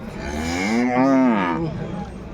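One long, low Punganur cow moo rising and falling, close by at a cattle market, over faint background noise.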